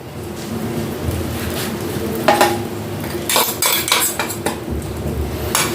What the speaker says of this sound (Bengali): গুঁড়ো করা হয়ে গেছে, এবার এটাকে আমি ঢেলে দিচ্ছি।